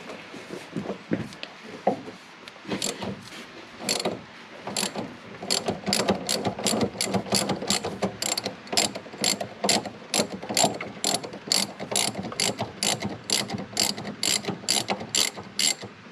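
Ratchet wrench loosening a steering linkage bolt at the steering gear of a 1998 Jeep Grand Cherokee, starting with a few scattered clicks and building into a long, steady run of rapid, close pawl clicks.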